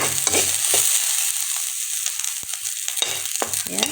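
Onions frying in a pan with very little oil, a hissing sizzle with several quick scraping stirs of the spatula at the start and near the end.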